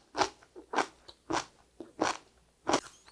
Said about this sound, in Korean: 배추를 먹어보겠습니다